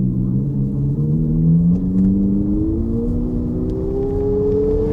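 An Abarth 600e electric car's synthetic engine sound, tuned to resemble a six-cylinder engine, drones loud and steady with a tone that climbs gradually as if accelerating.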